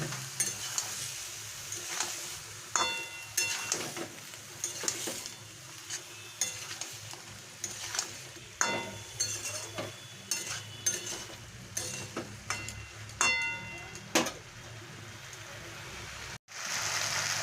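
Potatoes and papaya with spices being sautéed in a pan, with a steady close sizzle and repeated scraping and stirring strokes that come in an uneven rhythm, and no talking.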